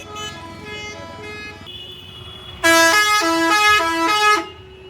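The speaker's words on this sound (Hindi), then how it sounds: "ये उत्तर प्रदेश परिवहन की बसें इतने भयंकर हॉर्न मारती है, शायद इसी को प्रेशर हॉर्न कहा जाता है" An Uttar Pradesh state transport bus pressure horn blares loudly in a multi-tone chord for about two seconds, after a softer steady horn tone over road rumble, on a broken, dusty road at the Delhi-UP Loni border.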